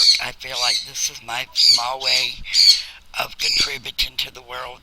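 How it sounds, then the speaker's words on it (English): Pet birds squawk sharply and repeatedly in the background of an indoor room, shrill calls breaking through steady close talk from a person. "you might have to hear a bird in the background sometimes."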